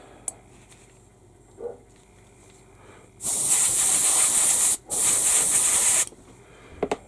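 An airbrush sprays paint onto the interior of an Airfix 1/72 B-17G model in two loud, steady hissing bursts separated by a brief pause, with small clicks and handling sounds before and after.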